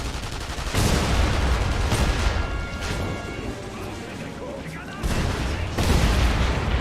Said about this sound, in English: The shooting started.